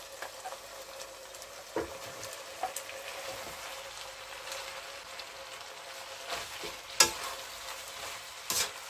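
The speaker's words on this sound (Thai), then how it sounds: "จากนี้ก็ใส่หอมใหญ่แล้วก็ผักลงไปเลยนะคะ" Onion and mixed vegetables being stir-fried with peeled, butterflied shrimp and carrot in a small, deep new pan, a steady soft sizzle with occasional louder scrapes and clinks of stirring.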